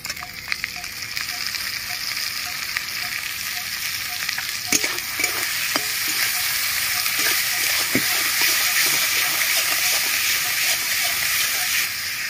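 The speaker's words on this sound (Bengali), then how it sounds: "তেলের মধ্যে ভালো করে একটু পেঁয়াজ বাটা দিয়ে দিচ্ছি।" Ginger-garlic and onion paste frying in hot oil for a potol dalna, with a loud, dense crackling sizzle throughout, broken by sharp spatters and occasional clinks of a stirring utensil, close up and without speech.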